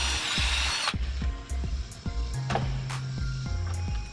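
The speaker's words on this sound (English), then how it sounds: "So we just need to drill out that one" A Bosch impact driver drills out a screw in several short bursts, its motor whining up, cutting off and restarting close by, with rising pitch during each run and no talking.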